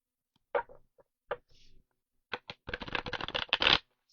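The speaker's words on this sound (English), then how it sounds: "We're gonna go in and shuffle the deck then." Tarot cards being shuffled, a few isolated riffles and snaps followed by a sustained rapid fluttering shuffle, close and fairly loud.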